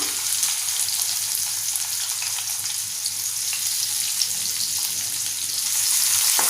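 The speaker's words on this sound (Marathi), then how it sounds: "छान परतवून घेऊया कांदा थोडासा आपण नरम होईपर्यंत परतवून घेऊया" Finely chopped medium onion sautéing in a pan with garlic for a Malvani-style chicken gravy, giving a continuous, even, close sizzle that swells slightly toward the end, with no voices.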